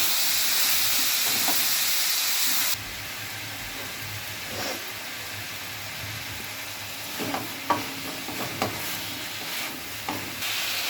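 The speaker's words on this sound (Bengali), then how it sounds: "সবজিগুলো একদম ভালো করে ভেজে নিতে হবে" Vegetables fry in a pan with onion and green chili, giving a loud sizzling hiss at first that drops to a softer crackle, broken by scattered stirring clatters and scrapes.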